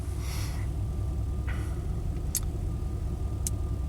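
A 1991 Chevy K1500 truck engine idles with a low, steady rumble, even and stable throughout, with a couple of faint ticks over the drone.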